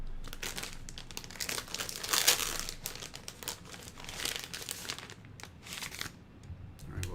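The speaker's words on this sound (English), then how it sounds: "The bag is hard to rip." A plastic bag holding a Mitutoyo Digimatic caliper is torn and wrestled open close up, giving continuous crinkling and crunching with sharper ripping bursts, no talking.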